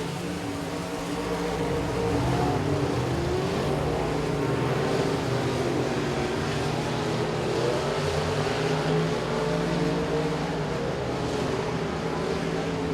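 Race cars roar around Boothill Speedway during a dirt-track heat race, a dense, continuous engine din from several cars with no talking.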